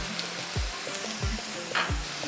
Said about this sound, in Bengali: পেঁয়াজটাকে কিন্তু লালচে করে ভাজবো না